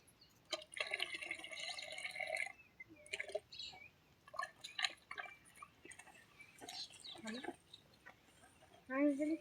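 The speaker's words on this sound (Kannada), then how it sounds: "ನೀರು ತುಂಬಿಸಿದೇನಾ ಅದ್ರಿ?" Water fills a container for an organic fertilizer spray in a faint, uneven trickle and splash, broken by short knocks and handling noises.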